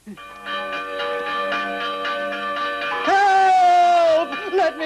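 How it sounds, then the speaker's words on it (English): Repeated bell strokes from a church bell in a Western frontier town, ringing steadily for about three seconds before a louder sustained tone takes over, with overlapping harmonic ringing throughout. "Ring the bell."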